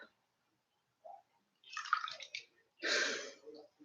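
Felted soap rinsed under running water, with short bursts of splashing and pouring separated by quiet gaps, close and moderately loud.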